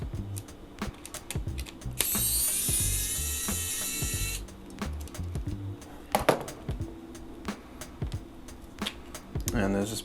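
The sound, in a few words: removing screws from a Radiomaster Pocket radio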